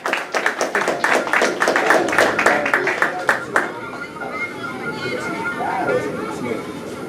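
An audience at a health-sector union assembly claps in greeting for a union official, a burst of loud, irregular applause lasting a few seconds before dying into murmuring chatter and room noise.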